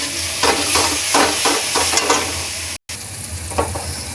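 Spice paste with tomato, salt and turmeric sizzling in a pan as it is sautéed, steady frying hiss with rhythmic stirring scrapes, close and fairly loud, with a brief dropout near the end.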